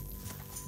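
A horse in Red Dead Redemption 2 makes brief, faint clip-clop hoof sounds against a steady in-game ambient background.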